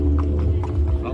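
Horse hooves clip-clop on pavement at an outdoor Christmas tree lighting event, several quick close strikes over a low steady hum.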